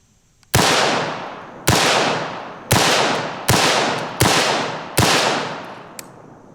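Six sharp, loud rifle shots of 5.56 rounds fired at body armor on a test dummy, spaced about a second apart, each a close crack followed by a long echoing decay, with no talking.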